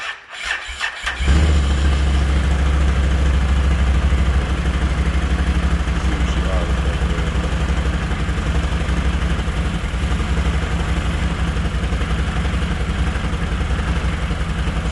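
A Can-Am Outlander XMR 1000 ATV engine, just fitted with a new fuel pump, cranks and fires after a second of silence, then runs loud and close at a steady idle.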